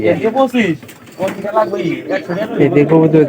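Pigeons kept in a tin-roofed house coo in low, throaty bursts, mixed in with a voice talking close by through most of the stretch.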